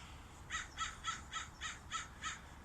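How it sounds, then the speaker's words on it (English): Crows caw seven times in a steady, evenly spaced series on a frosty morning in the Bay Area, sounding somewhat distant over a soft low background rumble. "There goes the crows."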